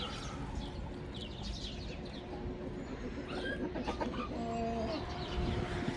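Chickens cluck and chatter nearby, several birds calling over a steady outdoor background hum, with a few brief higher calls mixed in.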